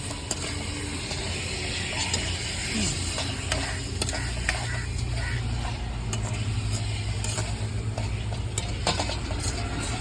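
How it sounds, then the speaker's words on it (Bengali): Chicken meat frying and being stirred in spice masala in a home kitchen, a continuous low sizzle with repeated scraping and clicking of a utensil against the pan, under a steady background hum. "আমাদের ফাইনালে মাংস দিয়ে দিলাম এবার মশলাতে"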